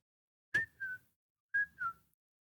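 Two short two-note whistles from one person, each a sharp rising note then a lower held one, about a second apart in a quiet room.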